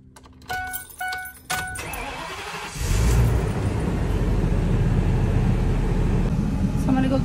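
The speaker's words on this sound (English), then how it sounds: "I'm gonna turn on the truck." A bus engine turns over and settles into a loud, steady idle that runs to the end. Keys jangle and some brief clatter come first.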